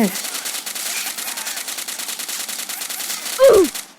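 A newly picked-up gun fires in a shooting video game, a rapid automatic burst of evenly spaced shots lasting several seconds, loud and close, with a brief vocal sound near the end.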